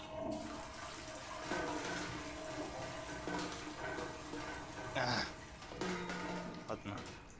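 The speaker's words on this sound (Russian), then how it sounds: "Почему не смывается?" A toilet that will not flush properly gurgles and trickles in a steady, close wash, with a brief sharper hiss midway, while a person talks over it.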